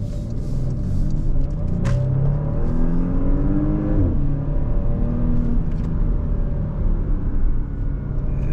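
Porsche Panamera 4 with a V6 turbo engine accelerating under steady throttle, a loud continuous rumble from inside the cabin with rising engine harmonics and a brief shift near the middle, no talking.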